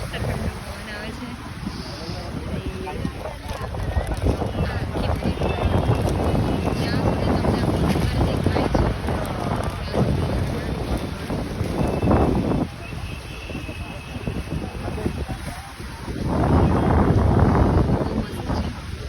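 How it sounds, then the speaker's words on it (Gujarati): Cool sea wind blowing along Marine Drive on the Mumbai waterfront, a steady broadband rush buffeting the microphone, swelling louder near the end, with faint voices in the background. "મસ્ત ઠંડો પવન આવે છે."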